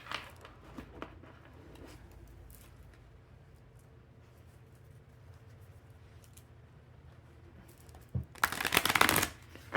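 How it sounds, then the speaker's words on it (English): A deck of tarot cards riffled and shuffled nearby, soft rustles and taps early on, then a loud burst of rapid flicking near the end. "I'll do a quick shuffle, or attempt to do a quick shuffle"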